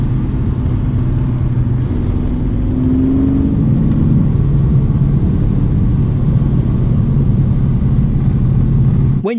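A project car's engine roars loudly under hard acceleration, a sustained, close droning growl whose pitch sweeps upward partway through, then holds steady at full volume to the end.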